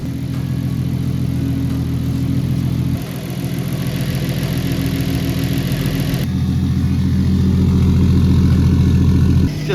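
A Nissan C33 Laurel engine idles steadily while warming up from cold, a loud, even mid-pitched rumble close by with a slight shift in tone partway through, running continuously without talk.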